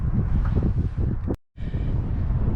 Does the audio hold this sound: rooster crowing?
no